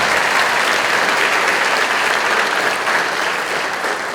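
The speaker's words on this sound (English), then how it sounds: "That's worth a round of applause." Steady, dense applause from a school concert audience fills the hall, loud and continuous throughout with no voices standing out.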